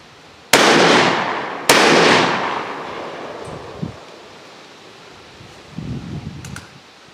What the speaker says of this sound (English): Both of them fired, but I've actually got the shell hung up